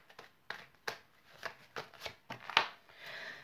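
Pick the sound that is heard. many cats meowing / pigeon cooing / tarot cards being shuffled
tarot cards being shuffled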